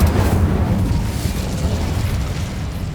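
An Incendio fire spell in Hogwarts Legacy erupts as a loud, rumbling fiery burst, a heavy low boom that roars steadily for about three seconds without letting up.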